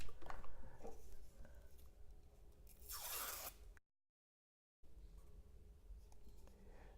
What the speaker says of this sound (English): I love peeling plastic from brand new devices.